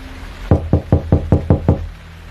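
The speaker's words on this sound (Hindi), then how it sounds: "राहुल ने आगे बढ़कर दरवाजा खटखटाया।" Knocking on an old wooden door, six evenly spaced, firm raps in a steady rhythm, close and clear against a quiet background.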